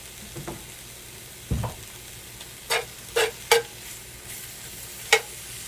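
Seasoned chicken, hit with seasoned salt, fries in a pan for a chicken pot pie as a utensil stirs it, a faint steady sizzle broken by several sharp scraping clacks spaced a second or so apart.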